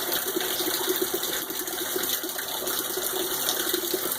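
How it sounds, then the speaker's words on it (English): A continuous, even rush of a greenhouse waterfall splashing into a pond, steady and fairly loud throughout with no pauses. "And the noise you hear in the background, that's actually my waterfall in my greenhouse."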